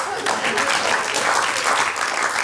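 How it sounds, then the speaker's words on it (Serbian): A studio audience at a Serbian TV talk show breaks into brief, lively applause, with voices mixed in among the clapping. "Aplauz."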